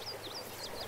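Several faint, thin bird chirps repeat at intervals over a low steady outdoor hiss in open country near Tincup, distant and soft with no voices.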